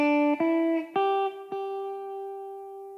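Gospel-style guitar lick anchored to a G bar chord, a few plucked notes struck in quick succession then a final note left ringing and slowly fading, clean and close with no talking.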